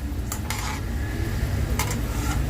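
Pumpkin seeds fried in hot ghee in a pan get stirred with a utensil, a steady close sizzle broken by a few sharp scraping clinks against the metal, with no talk.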